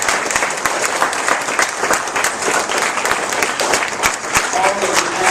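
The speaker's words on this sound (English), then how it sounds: "give them a round of applause" Loud, sustained applause from a public policy forum audience, dense clapping filling the room without a break.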